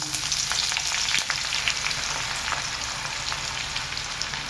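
Garlic crackles and sizzles in hot oil right after mustard seeds for a dal palak tempering, a dense continuous frying hiss with scattered sharp pops, close and steady throughout.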